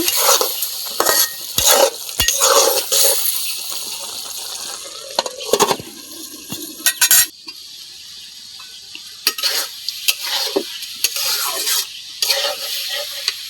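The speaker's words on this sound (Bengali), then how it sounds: "এখন এই যে ডালে আর ডিমে আমি একটু কষায় নেব ভালোভাবে" Utensil scraping and stirring lentils and eggs in a sizzling pan, with intermittent clinks and bursts of frying hiss, close by and fairly loud.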